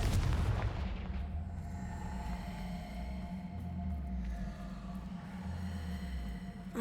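A Confringo fire spell explodes in the Hogwarts Legacy video game. A loud deep boom opens the clip, then a rumbling tail trails off under low droning game ambience.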